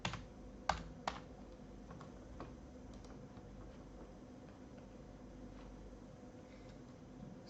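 A few crisp keystrokes on a computer keyboard while writing a Python print statement, close and quiet, clustered near the start then tapering into a faint steady background hum.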